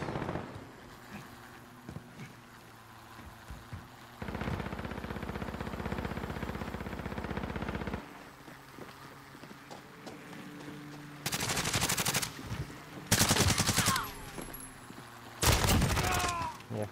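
Bursts of automatic gunfire in a Call of Duty Modern Warfare deathmatch, several sharp sustained volleys separated by quieter gaps, loud and close.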